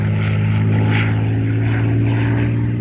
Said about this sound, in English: It's a rather special Spitfire.